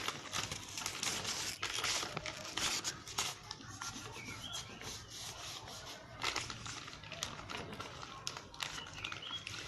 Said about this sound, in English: So just keep peeling.